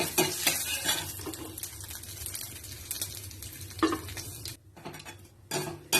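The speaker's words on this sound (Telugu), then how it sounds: "మెంతులు, జీలకర్ర, ఒక మిరపకాయ పోపు ఇందులో వేస్తున్నాను. వేసి పోపు వేయిస్తున్నాను." Fenugreek seeds, cumin and a chili frying in oil in a pan for tempering, a close sizzle with repeated scraping and stirring clatter of a spoon against the metal pan.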